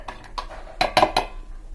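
Peeled, chopped chikoo pieces go into a mixer jar in a home kitchen. A few light taps lead into three louder, close clinks of spoon against jar, with no voices.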